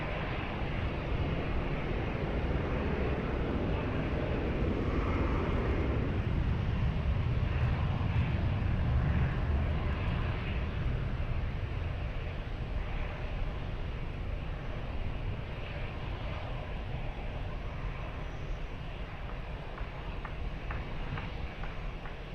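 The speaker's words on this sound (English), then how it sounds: "Clear for takeoff, runway 20" A jet airliner rolls down runway 20 at Lisbon Airport, heard as a steady, loud broadband engine roar that swells and then slowly eases, blended with wind buffeting on the microphone.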